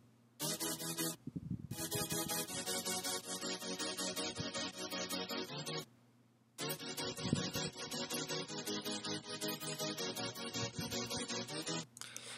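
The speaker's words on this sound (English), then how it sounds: "The next section we have here is another serum, but it's just kind of clean detuned saws" Clean detuned saw chords from the Serum synth play in a bright, sustained, harmonically rich stream, loud and continuous with two short gaps where the sound drops out.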